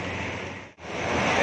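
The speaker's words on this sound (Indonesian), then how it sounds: "Makin deras hujannya." Heavy rain pours at the east gate of Tirtonadi bus terminal as a dense, loud, steady hiss that drops out for a split second midway, then returns even stronger.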